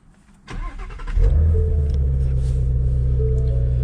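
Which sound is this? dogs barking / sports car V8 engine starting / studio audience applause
sports car V8 engine starting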